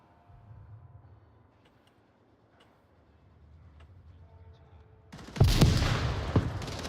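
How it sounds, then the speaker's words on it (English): Multiple gunshots in the VR shooter Onward during a competitive match, faint quiet action giving way to a sudden loud burst of gunfire near the end. "Multiple gunshots."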